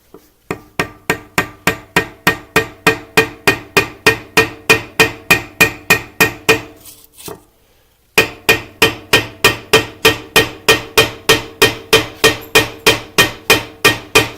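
A small hammer taps in a fast, even rhythm of sharp, close strikes during a hands-on fabrication build, with a brief pause partway through before the steady tapping resumes.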